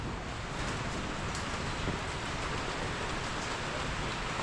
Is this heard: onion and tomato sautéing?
no